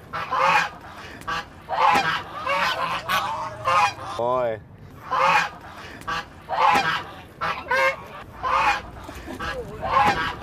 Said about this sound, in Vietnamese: Bắt ngỗng khá là khó khăn bởi vì các bạn thấy đấy, ngỗng dậy rất là khỏe